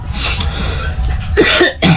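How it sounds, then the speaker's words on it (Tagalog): A person coughs hard several times while ill with flu, a harsh, close bout in two bursts with a short pause between them, recorded indoors. "Ang ubo ko yun, no? Yung malala."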